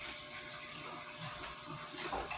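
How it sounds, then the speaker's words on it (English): Cold tap water runs onto freshly boiled eggs in a home kitchen. A steady, even gush of water pours without a break for the whole stretch, close by, with no talking over it. "Put some cold water on them."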